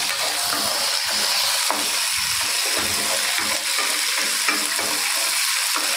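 Curry leaves and coriander frying in a pan, a bright continuous sizzle with rhythmic stirring scrapes and soft taps, close and fairly loud.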